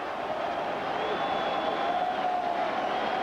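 A baseball stadium crowd buzzes steadily at a 1998 Boston Red Sox at New York Yankees game, a broad, even murmur filling the space as a batter steps in, with a faint thin tone drifting above the hum.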